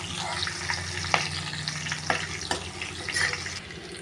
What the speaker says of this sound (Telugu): ఇప్పుడు ఉల్లిగడ్డలు వేసామండి